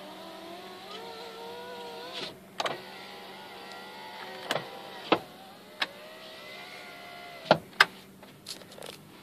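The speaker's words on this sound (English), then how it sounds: "I imagine I'm gonna go roll up my windows before it dies on me." Power windows on a 1996 Mitsubishi Montero truck whir as they roll up, a thin motor hum broken by several sharp clicks and thumps as the glass seats, heard close with no talk.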